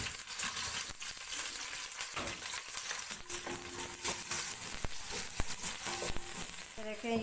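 Oil sizzling steadily in a pan on the stove with onions added, a continuous crackling hiss broken by a few sharp clinks and stirring knocks, close and fairly loud.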